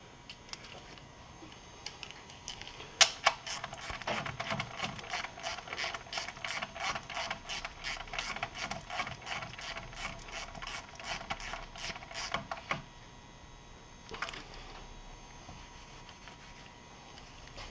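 A ratchet clicks steadily in a fast, even run of sharp ticks for several seconds while tightening the oil drain plug on an Audi 3.2L FSI engine, then stops, followed by one brief extra burst.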